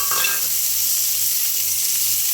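Small shallots frying in about a ladle of oil for quail gravy, a steady loud hissing sizzle close up, with a brief stirring scrape at the start and a faint low hum beneath.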